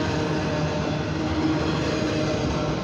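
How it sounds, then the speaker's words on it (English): A freight train carrying autoracks rolls slowly past at night, a continuous broad rumble and rattle of wheels and cars, steady and fairly close with no talking. "So this train is going"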